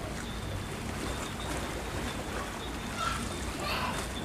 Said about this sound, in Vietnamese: ghe đang chạy với tốc độ cũng rất dữ ra khơi